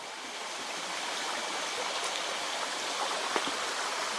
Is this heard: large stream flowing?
yes